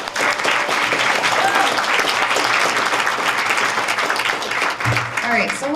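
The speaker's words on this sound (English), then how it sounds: "Can we give them one more round of applause?" A chamber of commerce breakfast audience gives loud, sustained applause for the Greenfield Farmers Cooperative Exchange team, a thick roomful of clapping that holds steady and starts to thin near the end as a voice begins to speak.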